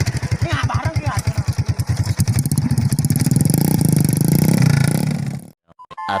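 A motorcycle engine at a street-racing scene, running close and loud with a pulsing idle that builds into a sustained rev, then cuts off abruptly near the end while people talk over it.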